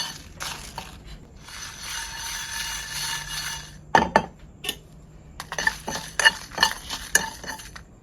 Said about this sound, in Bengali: এ পর্যায়ে আমাদের মশলা ভাজা হয়ে গেছে,